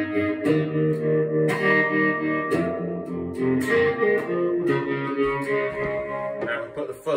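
An electric guitar played through a Boss TR2 tremolo and a TC Electronic reverb rings out in sustained chords and notes, pulsing with tremolo and trailing a wide reverb wash.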